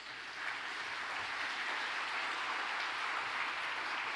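A church congregation applauds during a sermon, a soft, steady, distant-sounding wash of clapping that holds evenly from start to finish.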